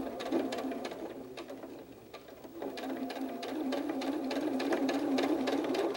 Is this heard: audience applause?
no